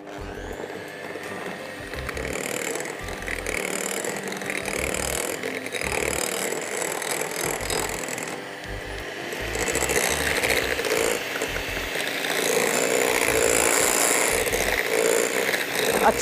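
An electric mixer whips cream with chocolate, giving a loud continuous grinding whir with a rhythmic rattle that keeps going throughout and grows slightly stronger toward the end.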